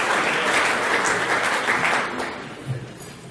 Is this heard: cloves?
no